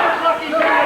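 Wrestling crowd at a CWA Memphis match shouting and yelling, a loud continuous mass of voices filling the whole moment.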